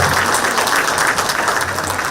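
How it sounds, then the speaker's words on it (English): Applause from an audience for the panelists at the close of a fintech cybersecurity regulation panel session, a steady dense wash of many hands clapping without pause for about two seconds. "A round of applause for all of the panelists."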